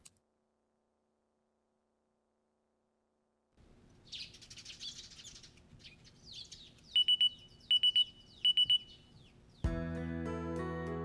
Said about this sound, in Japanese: 炊飯器のタイマーが鳴って白米が炊き上がる。